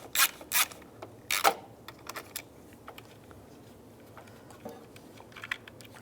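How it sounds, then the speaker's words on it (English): A 10mm socket wrench loosens nuts on a 1999-2005 Volkswagen Jetta power distribution fuse block, giving a few sharp ratcheting clicks and small metallic knocks, close and sparse, fading to quiet handling. "Now we'll take the nuts off. I'm just going to use a 10mm socket."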